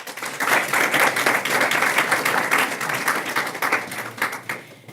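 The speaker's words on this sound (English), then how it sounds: "let us give her a round of applause" Dense, vigorous applause fills the hall at an opening bell ceremony, many hands clapping together in a continuous roar that holds strong for about five seconds before thinning slightly at the end.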